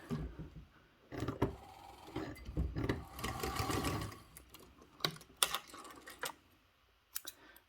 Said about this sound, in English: we are going to base stitch it together again with a 1/8 seam allowance